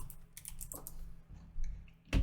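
Soft, rapid typing on a computer keyboard continues throughout, quiet and close, with a heavier thump near the end and no voices.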